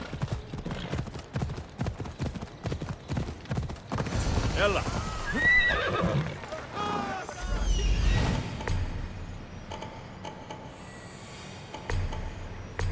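Horses in Assassin's Creed Odyssey clop along with rapid hoofbeats, then neigh and whinny loudly several times nearby, and a voice calls out briefly.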